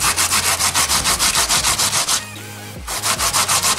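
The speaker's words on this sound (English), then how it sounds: "It's really easy to grate it. Potatoes are already grated." Potatoes grated by hand on a grater for Jamaican potato pudding, close rhythmic rasping strokes repeating quickly, pausing briefly in the middle before resuming.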